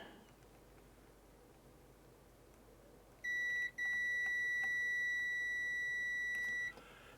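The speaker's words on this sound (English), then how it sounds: "So let me bring in the beeper." Continuity tester beeper sounding a loud, steady electronic tone against an Amiga mouse cable's pins, two sustained beeps with a brief gap, after a few seconds of quiet room noise.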